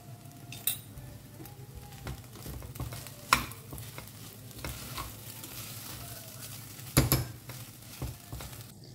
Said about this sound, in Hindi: अब इसे ना अच्छे से मिक्स करते हैं